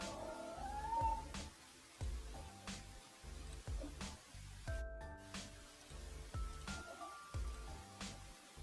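A cat meows faintly, a brief rising cry early on, heard quietly beneath rhythmic background music with soft pulsing beats.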